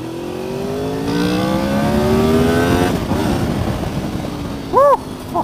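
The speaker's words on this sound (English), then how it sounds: "This VTEC, tell you what, when it's angry like that" A Honda VTEC engine revs hard under full throttle, its rising harmonic whine climbing steadily for several seconds before cutting back, then a couple of quick sharp blips near the end, loud and close.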